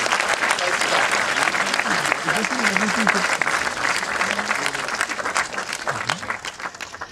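Sustained, dense applause from a large audience honouring the jury at a ceremony hall, loud and steady throughout with a faint voice briefly rising beneath the clapping.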